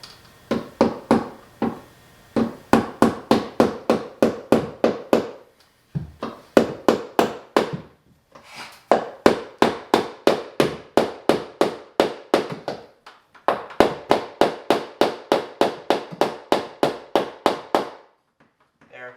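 A hammer drives a staple to fasten electrical cable to wood during a bathroom recessed-light installation. Quick, sharp, close taps come in long rhythmic bursts separated by short pauses.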